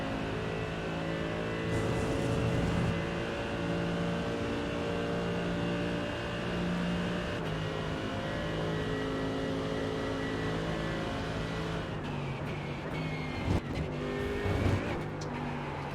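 Mercedes GT3 race car with a front-mounted engine in the iRacing sim, droning steadily and loudly throughout with a sustained harmonic engine tone, slight pitch shifts and a few brief bumps near the end.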